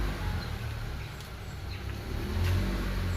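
A car engine revs briefly as the accelerator is pressed, a close mid-pitched rise in engine noise that swells toward the end of a short, otherwise steady run.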